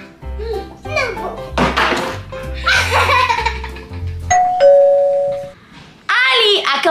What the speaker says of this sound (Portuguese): A campainha tocou.